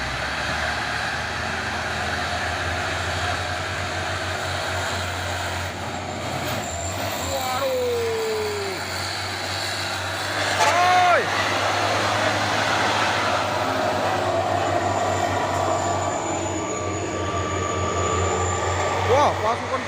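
Several CPO palm-oil tanker trucks roll past in a line, their steady engine rumble filling the scene, with a hiss like air brakes and a brief rising whine partway through, under a speaking voice.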